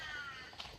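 A crow caws outdoors on rural land beside a mushroom forest, a clear, fairly close call at the start followed by a fainter second caw amid open-air ambience.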